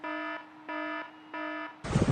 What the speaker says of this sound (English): the overheat alarm went off on the engine